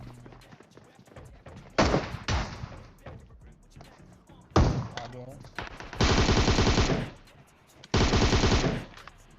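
Automatic fire from an M762 rifle in PUBG, several loud rapid bursts of full-auto shots between pauses, with someone talking over the gameplay.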